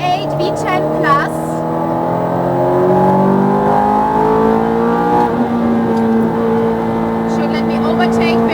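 A race car engine on a track revs hard and climbs steadily in pitch, then drops as it shifts up and pulls again, loud and close.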